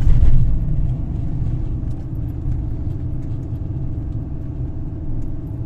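Manual car driving on a road in Paphos, Cyprus: a steady low engine rumble with road and tyre noise runs throughout, heard from inside the car.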